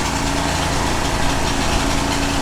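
A Cub Cadet 1641 lawn tractor engine runs steadily and loudly, running poorly with a rough, uneven drone and a throbbing low rumble throughout, with no voices.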